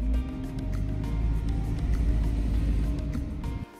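A Jaguar XJS V12 coupé climbs the Großglockner High Alpine Road, its engine a steady, full low rumble with road noise that holds constant from start to finish before cutting off abruptly near the end.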